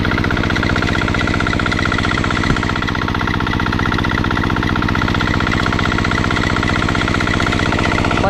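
A machine engine runs steadily and loudly at close range, a dense, unbroken mechanical drone with a rapid rhythmic chug and no pauses for the whole stretch.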